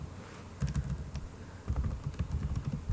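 Rapid keystrokes on a computer keyboard while Perl code is entered, a close, steady clatter of clustered taps with short pauses between bursts.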